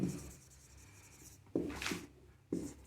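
Chalk or marker strokes on a classroom board during a chemistry lesson, a soft rubbing scratch at first, then two distinct bursts of writing, faint and close, with no talking.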